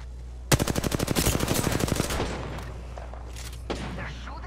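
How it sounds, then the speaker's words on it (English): A rapid burst of automatic gunfire in Apex Legends, about a dozen sharp close shots in quick rhythm, followed by a few scattered impacts and a later single crack. "They're shooting at me?"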